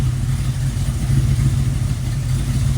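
A warmed-up 1972 AMC Javelin engine idles steadily up close, a low even rumble with a faint rhythmic pulse and no other sounds.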